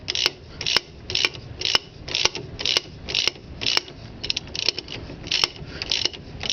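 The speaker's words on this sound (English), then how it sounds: "It's pulling the bush into the tool." A bush removal tool is ratcheted to pull the lower control arm bush from an EB Ford Falcon, giving close, steady mechanical ratchet clicks at roughly two per second, with no talking.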